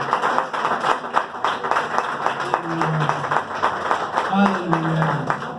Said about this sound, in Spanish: Dale un fuerte aplauso al Rey con todo tu corazón.